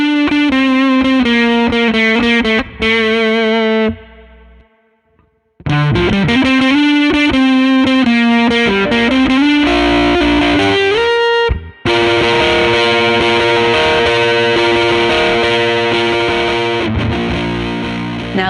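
Electric guitar played through a vintage op amp integrated-circuit distortion pedal, loud sustained overdriven chords and single notes, with a brief drop-out near the five-second mark before heavy distorted playing resumes.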